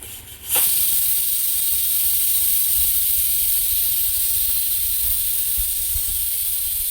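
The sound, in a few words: pressure cooker whistle releasing steam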